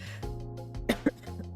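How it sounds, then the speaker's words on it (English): A person coughs while sick, giving a couple of short, close throat bursts over a soft, steady background hum. "I'm trying to mute myself every time I cough or sniffle"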